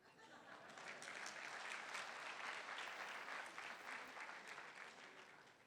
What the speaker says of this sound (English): Can you give yourself a clap?